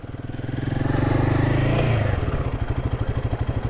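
A liquid-cooled single-cylinder Royal Enfield Himalayan 450 motorcycle engine, 2024 model, revving close by with a rising mechanical whir, then dropping back to a steady, loud, pulsing idle thump.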